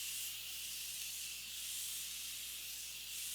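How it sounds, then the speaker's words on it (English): Morphe Continuous Setting Spray misting onto a face as a steady, fine aerosol hiss that holds evenly without a break for several seconds, close and fairly soft, with no talking. "so I'm going to use my Morphe Continuous Setting Spray"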